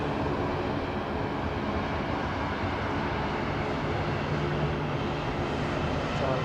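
An airliner in Mandawarji livery from Manila taxiing out at Sydney Airport toward the runway, a continuous broad jet engine roar, steady and fairly loud, with no talk.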